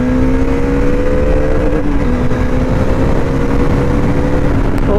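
A Bajaj Dominar 400 motorcycle cruises along a highway, its engine holding a steady, loud drone with a faint rising pitch, heavily mixed with constant wind rush and no voices.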